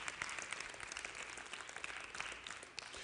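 A church congregation claps hands in steady, dense applause, a fairly distant wash of many overlapping claps with occasional sharper hits, continuing throughout with almost no speech.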